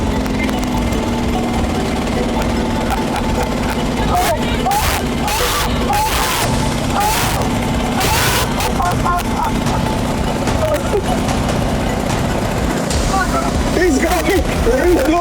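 Mini skid steers locked in a tug of war, engines loaded and straining in a continuous loud rumble throughout, with clanking bursts and people talking over the machinery.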